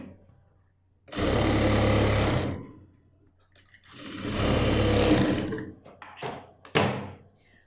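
An electric sewing machine stitching churidar bottom fabric runs in two sustained whirring bursts of about a second or more each, loud and close, followed by several short stuttering runs and clicks, with no voices.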